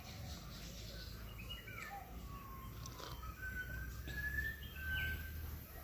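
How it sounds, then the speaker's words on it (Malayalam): An Asian koel calls in the background at Munnar with a few thin, rising whistled notes among faint birdsong and low room noise, distant and quiet. "ബാക്ക്ഗ്രൗണ്ടിൽ കേൾക്കുന്ന സൗണ്ട് ഒരു കുയിലിൻ്റെ സൗണ്ടാണ് കേട്ടോ."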